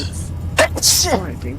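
A single sneeze bursts out mid-sentence, loud and close, with speech on either side.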